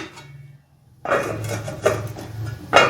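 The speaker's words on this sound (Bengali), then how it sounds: "এবার ঢেকে দিচ্ছি" A lid is set onto a cooking pot of fish broth with vegetables, one sharp metallic clank after a quiet moment, followed by a few further rattling knocks and scrapes of the cookware.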